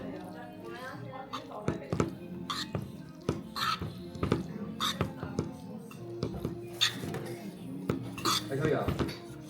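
Utensils clink and scrape against a bowl as bibimbap of rice, beef and mushrooms is mixed, giving steady close metallic taps and scrapes with quiet talk underneath.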